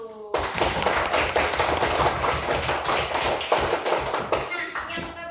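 A classroom of primary school children applauding together, a dense, sustained burst of many hands clapping close by for several seconds, with a few voices mixed in before it tapers off.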